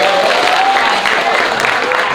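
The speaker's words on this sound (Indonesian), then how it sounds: "Berikan tepuk tangan dong" Studio audience at a game show breaks into loud applause, a dense continuous clatter of clapping with a faint voice or tone threading through underneath.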